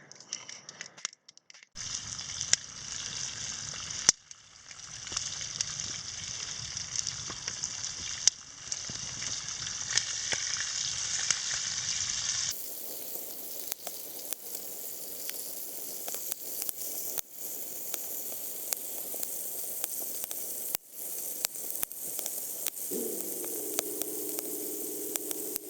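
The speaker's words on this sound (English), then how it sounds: "Put it on the skillet. That skillet's got some lard in there. It's already good and hot." Saffron milk cap mushrooms frying in hot lard in a skillet outdoors, a continuous close crackling sizzle that shifts in tone partway through, with faint clicks and a brief tonal sound near the end, no talking.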